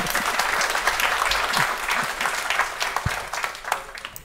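Audience applause at a Nordic reform conference, a steady wash of many hands clapping at moderate distance that fades slightly toward the end, with no talk over it.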